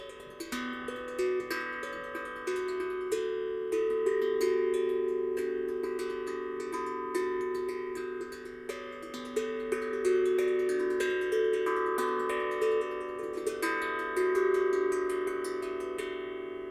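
A Harmonic Star steel tongue drum struck with bare fingers rings out in a steady melodic pattern, its bell-like tones overlapping and sustaining, played close and moderately loud with no talking.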